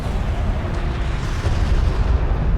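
A destroyed craft explodes in the Homeworld: Deserts of Kharak strategy game, a dense, continuous low rumble of battle and blasts that stays loud throughout.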